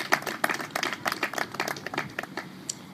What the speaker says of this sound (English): Let's give the E.L. Gibson Foundation a round of applause.